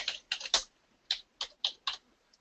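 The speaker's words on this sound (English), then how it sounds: "I would type in something such as design services for May" Keys on a computer keyboard tapped in about seven quick, uneven bursts while an item name is entered into time-entry software, each cluster of clicks close and crisp with short silences between.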